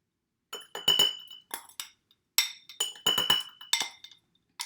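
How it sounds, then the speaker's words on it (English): A metal spoon clinks against a glass mason jar in quick bright bursts while vegan cheese powder is scooped in, with several groups of sharp ringing taps and short silences between them. "then I spoon it into my mason jar"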